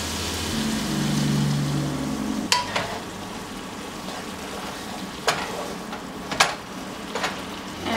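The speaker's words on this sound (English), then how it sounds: "now you're going to add the heavy cream in and stir to combine" Heavy cream stirred into a pan sauce for salmon with pearl onions and peas: a steady hiss of a gently cooking pan, a low hum early on, then a few sharp utensil taps and scrapes against the pan.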